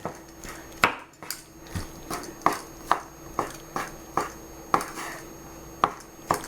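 A knife chops cooked lobster meat into small bits on a cutting board for crab cakes, about a dozen crisp, evenly spaced thuds, close and loud, with no voices.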